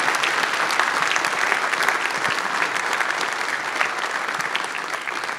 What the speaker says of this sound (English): We could give Dr. Varma and Ron another round of applause.